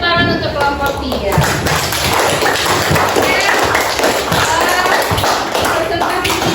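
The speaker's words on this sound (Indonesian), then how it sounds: "tepuk tangan untuk kelompok 3" Classroom applause for a student group after their presentation, a steady dense patter of many hands clapping close by for several seconds with background chatter mixed in.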